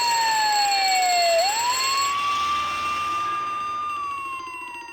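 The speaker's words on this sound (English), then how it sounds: "A glass-protected fire alarm." A glass-protected fire alarm in a video game wails as a single loud, steady electronic tone that dips, then rises and holds before fading slightly.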